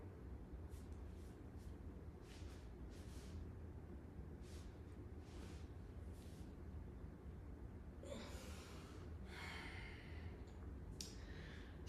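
Soft double exhalations during a breathing practice, faint breathy bursts of air late in the stretch after long quiet, low-level hiss.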